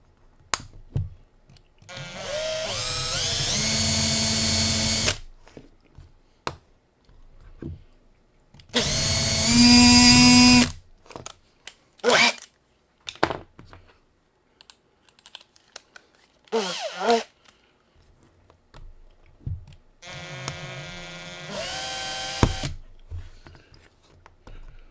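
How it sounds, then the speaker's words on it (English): Power drill bores the shoulder on an AMC AMX, running in several loud sustained bursts with pitch shifts as it bites, separated by pauses filled with clanks and handling noises. "As always, start out with the shoulder drilling first."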